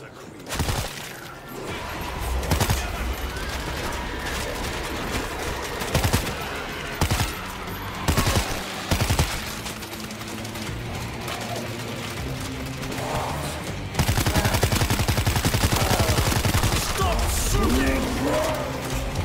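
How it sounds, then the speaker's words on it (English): Gunfire from the zombie shooter World War Z, in a Moscow level, crackles in dense bursts of rapid shots over a loud battle din, with heavier sustained fire toward the end and voices shouting now and then. "Stop shooting!"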